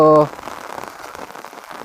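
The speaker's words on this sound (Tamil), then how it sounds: "மழை மறுபடியும் அதிகமாகிடுச்சு." Steady heavy rain from Cyclone Nivar patters on a surface after a brief tonal beep at the start, a continuous hiss of drops close by.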